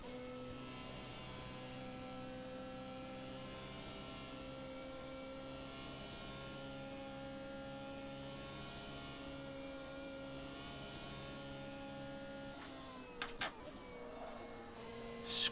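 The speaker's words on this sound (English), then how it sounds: "Screaming Judd V8." Judd V8 race car engine in Assetto Corsa holds a steady, loud high-pitched scream at constant revs for about twelve seconds, then a brief burst of rough, clattering noise near the end.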